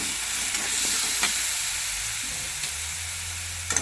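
Green chillies sautéing in hot oil for a quick potato bhaji, a continuous soft sizzle with occasional small crackles and a faint stirring clink, no voices.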